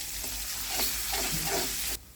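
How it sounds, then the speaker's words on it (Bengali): Onion with garlic paste and a little ginger paste frying in a pan for a catfish curry, giving a steady close sizzle with stirring scrapes, then cutting off abruptly near the end. "পেঁয়াজটা একটু হালকা ভাজা হয়ে গেছে, রসুন বাটা দিলাম, দিয়ে আর একটু ভাজতে হবে।"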